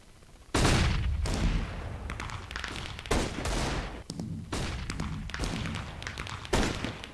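Gunfire in an esports video game match's first gun round, several sharp bursts of shots with heavy thumps, loud and close, separated by brief lulls.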